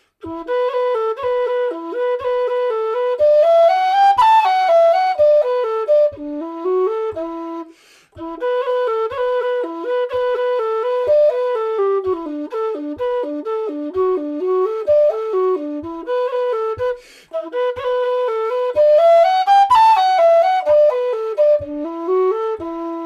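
A tin whistle plays a lively folk tune of quick ornamented notes, alone and close, with brief gaps where a note is dropped for breath, the melody repeating its phrases over a faint steady tapping beat.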